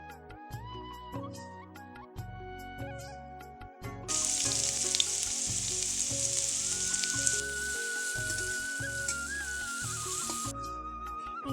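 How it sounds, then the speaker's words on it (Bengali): Potatoes and vegetable stalks frying in a pan over a clay stove, a loud sizzle rising midway and holding steady under music, with spatula stirring. "নুন ও হলুদ গুঁড়োকে ভালো করে মেশানোর জন্য আমি খুন্তি দিয়ে ভালো করে নেড়ে নিচ্ছিলাম।"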